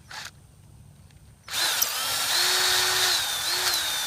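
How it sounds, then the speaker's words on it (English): After a quiet moment, a power drill kicks on nearby and whirs steadily at high speed, blowing out a hole in a KX 65 dirt bike rear hub, its motor pitch wavering slightly as it runs. "Just grab the drill, find the hole, and blow it on out."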